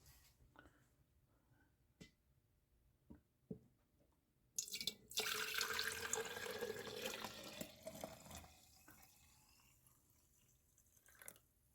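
Homemade vegetable broth poured into a jar, a few faint drips and clinks, then a steady liquid pour that fills for several seconds before tapering off, close and fairly quiet.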